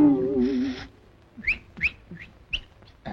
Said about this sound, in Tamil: உனக்கு விசில் வேறையா?